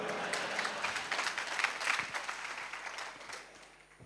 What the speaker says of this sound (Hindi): इतनी तालियां बजा रहे हैं।